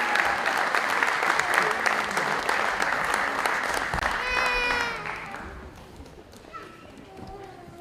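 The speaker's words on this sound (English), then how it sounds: "Let's give them a round of applause." A crowd at a Samoan youth crusade bursts into loud, dense applause that carries for about five seconds before dropping away, with voices and cheering mixed in and fading talk afterward.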